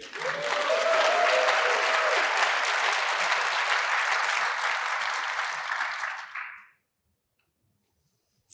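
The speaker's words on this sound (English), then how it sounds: "so I expect a loud applause for them" A large conference audience at RubyConf 2024 claps loudly and steadily for several seconds, then the applause drops off quickly into silence.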